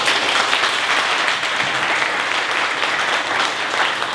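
Brief, steady applause from a conference audience at a San Francisco Design Week panel, an even wash of clapping with no talk over it.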